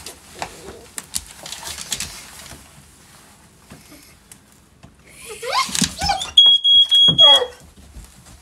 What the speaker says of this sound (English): It's the red button on your smoke detector.